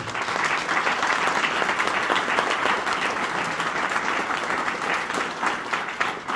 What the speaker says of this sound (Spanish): para quien pido nuevamente un muy fuerte aplauso